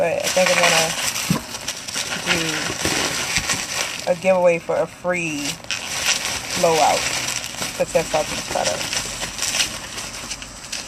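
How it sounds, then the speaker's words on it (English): Bubble wrap being crinkled and rustled while unboxing a blow dryer and hair products, a busy crackling texture running under someone talking throughout. "Excuse the noise, y'all. It's all the bubble wrap."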